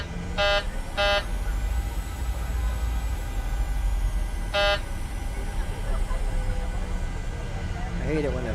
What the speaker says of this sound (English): I hate it when that buzzer does that.